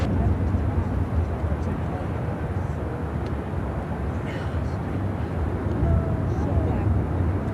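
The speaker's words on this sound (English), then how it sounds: "This is Asiana Cargo 242 taking off to Dallas Fort Worth" An Asiana Cargo Boeing 747-400 converted freighter takes off from Chicago O'Hare with a dense, low, continuous engine rumble at moderate distance, while people talk quietly underneath.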